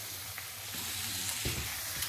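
Bacon pieces about 1.5 inches long sizzle in a pan with a steady, loud frying hiss, broken by a few soft clatters as they land and shift.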